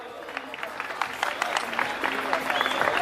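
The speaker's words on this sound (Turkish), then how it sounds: "Bir alkış alalım." Scattered clapping from a small group builds steadily over a few seconds at a Turkish keşkek festival, with a busy, reverberant room murmur underneath.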